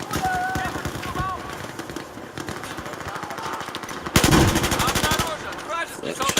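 Battlefield 4 multiplayer on PlayStation 4 rattles with rapid machine-gun bursts and continuous gunfire, loud and close, with a heavier blast midway and faint voices underneath.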